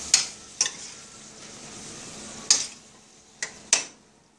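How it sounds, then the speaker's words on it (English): Black beans are stirred into a tamale pie filling in a pan over a soft, continuous sizzle. A spoon scrapes and clicks against the pot five times at an uneven pace. "We're gonna stir those in."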